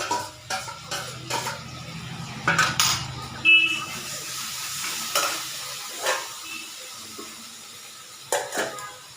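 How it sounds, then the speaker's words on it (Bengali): Ginger paste fries in a pan while being stirred, a soft sizzle under repeated scraping and clinking strokes of a utensil, close and moderately quiet. "যেহেতু এটা আদা বাটাটা ভাজা হচ্ছে"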